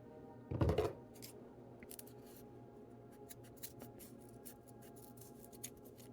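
A loud crunchy snip at the start, then a series of lighter clicks and snips from dull scissors working through paracord, close up in a quiet room.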